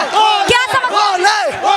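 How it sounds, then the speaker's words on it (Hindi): A large crowd of Kanwariya pilgrims chants Bam Bam Bhole slogans in loud, rhythmic rising-and-falling calls, many voices shouting together close by in a continuous wave. "बम बम बोले के नारे लगा रहे हैं।"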